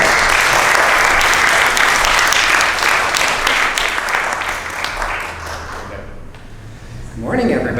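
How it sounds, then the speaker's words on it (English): Applause at a civic honors ceremony, a steady roar of many hands clapping that fills the room for several seconds, then thins out and trails off near the end as a voice begins under it. "Let's give Alan a round of applause."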